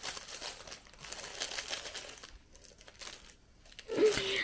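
A small pinkish-mauve gift pouch crinkles and rustles as it is handled and opened, soft close-up crumpling throughout with a brief sharper crunch near the end.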